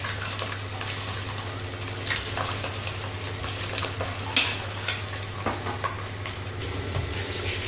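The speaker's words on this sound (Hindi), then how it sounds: "इसको चारों तरफ से चलाते हुए हम इसे फ्राई कर लेंगे।" Eggs fry in a kadai with a constant close sizzle while a utensil stirs and scrapes them around, giving scattered small clicks and scrapes over the steady frying hiss.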